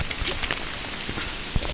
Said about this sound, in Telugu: బీభత్సంగా వర్షం పడుతుంది చూడండి